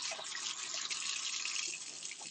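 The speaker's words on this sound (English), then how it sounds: "Okay, wash my hands." Tap water running into a kitchen sink during hand washing, a steady faint hiss of flowing water with small splashes, heard alone for a couple of seconds.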